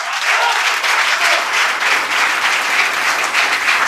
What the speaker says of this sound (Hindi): अब तक की सबसे ज्यादा तालियां उठें